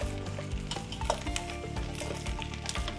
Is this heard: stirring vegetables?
yes